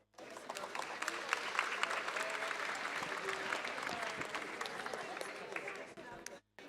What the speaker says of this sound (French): Je demande de l'applaudir.